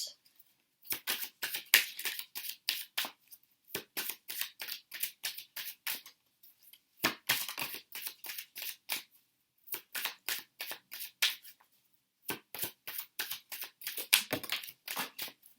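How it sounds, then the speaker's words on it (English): Tarot cards riffled and shuffled in repeated quick bursts, close up, with short pauses between rounds. "I'm just going to shuffle all these cards out."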